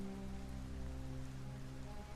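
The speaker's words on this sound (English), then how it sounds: "It always rains in Detroit." Steady rain falls in the Detroit: Become Human video game, a continuous even hiss of drops on hard surfaces with a low hum beneath, heard alone without talk.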